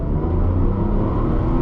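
Tata Tiago hatchback accelerating from a standstill in manual mode, a loud, steady low engine rumble and drone heard from close by, with no talk over it.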